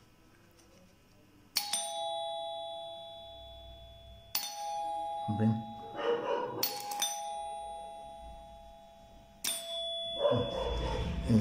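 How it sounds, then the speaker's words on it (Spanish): An electric doorbell on an electronics lab bench sounds four sharp metallic rings, each with a ringing, decaying tone, while a dog barks and other noise rises in between. "Entonces es un timbre, ven, simple el trabajo de un timbre."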